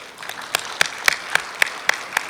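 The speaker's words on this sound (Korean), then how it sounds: "우리 모두가 함께 환영하는 의미에서 힘찬 박수로 대신하고자 합니다" A ceremony audience at a regional governance convention's opening applauds to welcome guests: sparse, rhythmic clapping with regular sharp claps about every quarter second over a faint background.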